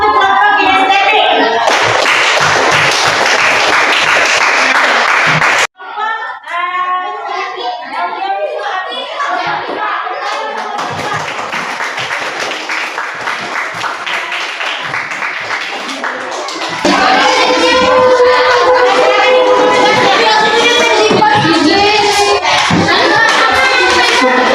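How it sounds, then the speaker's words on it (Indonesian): Classroom applause for a group of students in a teacher's coaching session, with a loud burst of clapping at the start, then children chattering and clapping mixed with voices, and a second dense round of clapping near the end. "tepuk tangan dulu untuk kelompok kinestetik"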